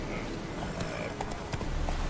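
Hooves of the horse Roach in The Witcher 3, a soft clip-clop of walking steps half buried in a dense, steady wash of game ambience.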